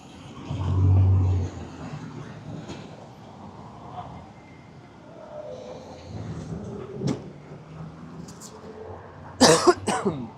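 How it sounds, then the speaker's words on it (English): A single loud, sharp cough bursts out near the end, following quiet background noise with faint rumbles and scattered knocks, on the Hollywood Walk of Fame. "it was not a COVID cough"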